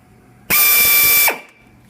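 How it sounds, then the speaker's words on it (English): A drill bores out the stripped drain plug hole on a Yamaha Raptor 700 ATV, a single steady high whine that starts abruptly, runs under a second near the mic, then winds down and stops. "you cannot drill too deep because the hole isn't open"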